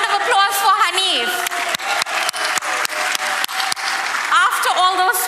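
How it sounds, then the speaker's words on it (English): Sustained applause from delegates at a DA KwaZulu-Natal provincial party congress, a loud crowd clapping continuously with cheers and voices mixed in, while an amplified speaker's voice carries over parts of it. "Another round of applause for Hanif."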